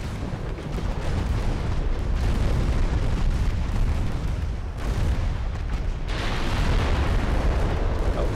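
Battlecruiser main guns firing during a naval battle in Ultimate Admiral Dreadnoughts, heard as loud, sustained rumbling booms with a brief dip and a sharp fresh blast near the end.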